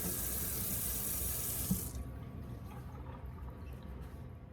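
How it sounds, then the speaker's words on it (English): A kitchen tap runs steadily as tomatillos and chiles are washed under it. A dense, loud hiss of water fills the first two seconds, then the flow drops to a softer trickle and splash for the rest. "We will follow by washing the tomatillos and the chiles I just got"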